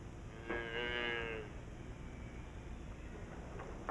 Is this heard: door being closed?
no